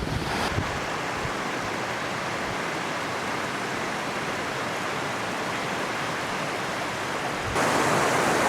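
Flooded river rapids churn with a steady, broad roar of rushing water in the Australian bush, loud and continuous throughout, with wind buffeting the microphone.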